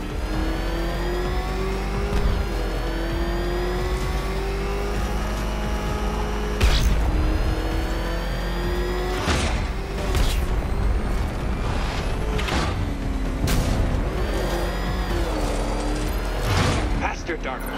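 The Batmobile's engine roars and revs during racing in the video game Batman Arkham Knight, loud and sustained with rising and falling pitch, repeated bursts and thumps, under game speech.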